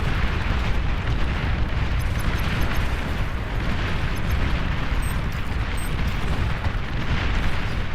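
Dense, continuous artillery bombardment in the strategy game Beyond All Reason, loud overlapping booms and bursts merging into a constant roaring barrage with no pauses.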